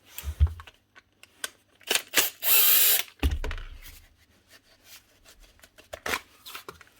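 A second-hand power drill from a bag of broken tools runs roughly in bursts, with one sustained loud whine of about a second between short clicks, knocks and handling noises, up close with no talking.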